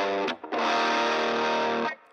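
Electric guitar with heavy distortion, played for a worship song, rings out in one sustained, loud chord after a short pick attack, then cuts off cleanly near the end.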